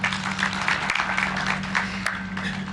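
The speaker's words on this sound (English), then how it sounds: "Please clap for them." A hall audience applauds long-serving examiners with over 30 years of marking at a national exam results release ceremony; the clapping is a steady, dense wash of hands over a low constant hum.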